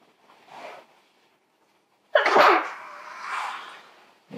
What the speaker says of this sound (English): Bless you, old man. Keep sneezing.